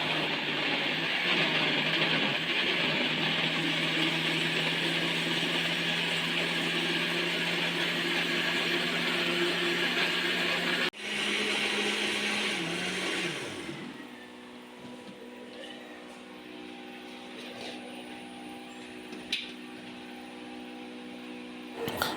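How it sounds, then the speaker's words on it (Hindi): A kitchen blender whirs steadily and loudly as it blends chopped apple with about half a glass of water for juice. After a short pause it runs again, then winds down into a quieter, uneven hum. "अब इसको अच्छी तरह से ब्लेंड कर लें।"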